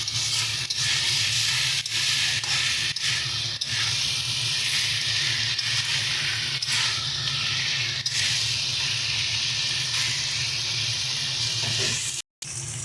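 Fish (hilsa head), vegetables and Malabar spinach greens sizzle steadily in a pan while being stirred together, a loud, continuous hiss with occasional faint scraping ticks.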